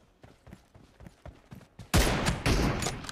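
Gunfire in a PUBG Mobile team deathmatch: a string of sharp, evenly spaced shots builds into a loud, sustained barrage of overlapping gunfire with mechanical clatter.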